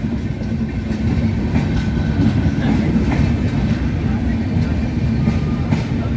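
A Chennai Central express passenger train rolls past at a forest crossing near Balaghat, a loud continuous rumble with rhythmic wheel clatter throughout.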